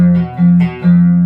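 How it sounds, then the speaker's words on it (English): A guitar sounds a dissonant tritone interval, with sustained notes plucked three times in quick succession, ringing with a slightly buzzy, effected tone. "That's the sound of our tritone."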